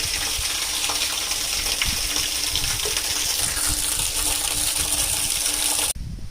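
Water pours steadily into a trough for buffaloes at a village stable, a loud continuous gushing splash close by that cuts off abruptly near the end.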